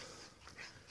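Jack Russell puppies whimper softly, giving brief faint high whines heard close by.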